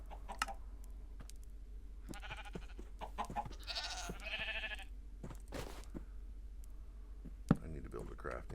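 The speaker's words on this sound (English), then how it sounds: "Got a goat." A goat in the Minecraft video game gives a few short bleats amid quiet clicks and taps, faint overall, with low voices murmuring in the background.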